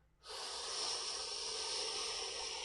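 A long, breathy exhale during a meditation exercise, a close and steady hiss of air that starts abruptly and holds evenly for a couple of seconds.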